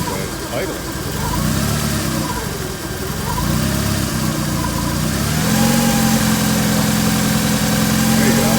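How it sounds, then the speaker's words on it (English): A Honda car engine idles with a weird, uneven sound, a low steady rumble that wavers and then settles into a firmer hum, with people talking over it. "there's a weird sound when it's idling"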